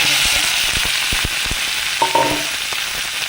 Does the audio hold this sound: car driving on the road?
no